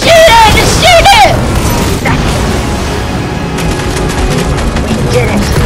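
Loud, dense game gunfire and mechanical clatter in a Fortnite live event, a continuous barrage with bursts and pops, while excited voices shout over it early on.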